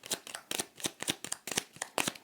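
Oracle cards shuffled by hand in quick bursts, a soft papery riffle repeating about every half second, close and fairly quiet with no voices.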